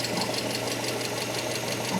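A Mercedes S500 Coupe engine, being repaired and giving off steam and smoke, runs close by with a dense, steady mechanical roar and rapid knocking rattle throughout.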